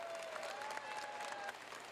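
Dense, continuous standing-ovation applause from a large crowd at the Nobel Prize ceremony, steady and moderately distant, with a faint tone running underneath.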